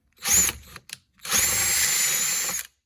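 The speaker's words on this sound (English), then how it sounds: "We're going to drill that out." A power drill drilling out a metal part runs in two bursts, a short one and then a longer steady whine, close by and loud.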